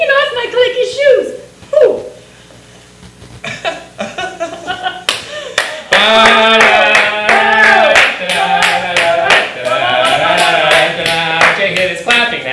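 Hands clap in quick sharp bursts alongside voices and laughter, with loud music-like tones rising partway through and the claps continuing under them.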